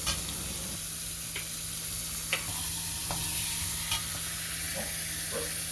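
Chopped onions fry in oil over a high flame, a constant loud sizzle with occasional spatula clicks and scrapes against the pan, close up and without voices.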